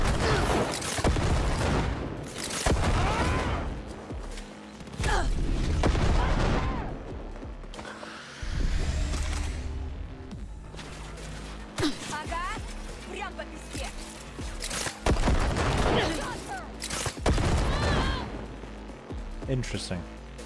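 Cyberpunk 2077 Projectile Launch System cyberware firing: several heavy booming shots spaced apart across the stretch, loud and punchy, with someone talking between and over them.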